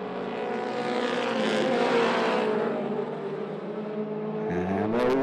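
Mini stock race cars roar around 411 Motor Speedway, a dense, loud, steady engine drone from several cars at once, with one engine's pitch dropping sharply near the end as it passes close.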